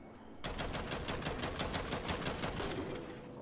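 A weapon in alternate fire mode in the video game Gears 5 fires a rapid, evenly spaced burst of sharp, clattering shots after a brief quiet start, sustained for about three seconds.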